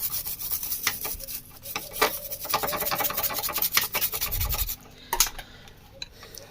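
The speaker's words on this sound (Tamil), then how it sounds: "லைட்டாக கொஞ்சம் பெட்ரோல் அங்கே அப்ளை பண்ணிவிட்டு கூட ப்ரஷ் வச்சு க்ளீன் பண்ணிக்கோங்க" A brush scrubs petrol across the contacts of a voltage stabilizer's circuit board in steady, close, dry scratching strokes. The scrubbing runs continuously, then eases off into a few lighter brushes near the end, and no one speaks.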